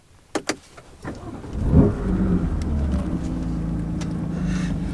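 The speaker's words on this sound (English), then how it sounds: "Let's start it up." A four-door car's engine cranks and catches after a couple of sharp clicks, then settles into a steady, low, even idle, heard close from inside the warm cabin.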